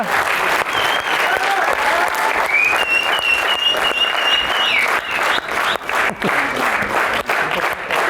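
Loud, sustained applause from a theatre audience at a comedy stage show as the cast is called up, dense clapping with a few whistles and voices mixed in.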